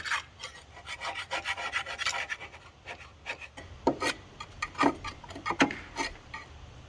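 Steady scratchy scraping close by under a dirty mower deck on a Masport Rotarola, short rasping strokes repeating unevenly, with a few sharper ticks toward the end.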